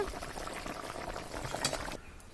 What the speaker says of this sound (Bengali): দেখুন আমাদের কিন্তু বলক চলে এসেছে।